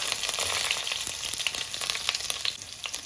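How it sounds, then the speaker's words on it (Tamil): Small chopped garlic pieces sizzle and crackle steadily in hot oil in a home kitchen, a dense continuous frying hiss with scattered pops, close and fairly loud with no talking. "பொறிஞ்ச உடனே கொஞ்சமாக பூண்டு சின்ன சின்ன பீஸாக கட் பண்ணியிருக்கேன் பூண்டு போட்டுடலாம்"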